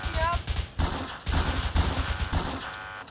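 Rapid bursts of video game gunfire as a player shoots at a police car's tires, crackling in quick clustered shots with short gaps between volleys.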